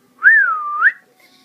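A talking parrot in San Diego, California whistles one loud, clear sliding note lasting under a second, rising, dipping and rising again, close to the microphone and with no voice over it.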